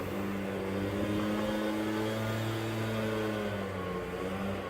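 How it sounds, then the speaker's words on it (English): Lawnmower engine running steadily in the background beside an outdoor generator oil change, a continuous droning hum with a slight waver in pitch and no speech over it. "Sorry about the lawnmower"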